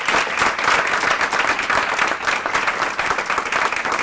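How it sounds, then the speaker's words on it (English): An audience at a workplace improvement report-out applauds after a presentation, giving a continuous, even roar of many hands clapping at a steady level from start to finish. "I think another round of applause."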